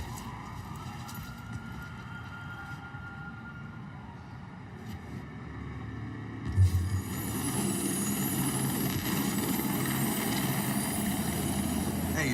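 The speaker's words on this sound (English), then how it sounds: "No, I do believe that is a helicopter." A helicopter flying in a Ubisoft game trailer, a steady rotor and engine rumble that swells louder partway through over ambient sound.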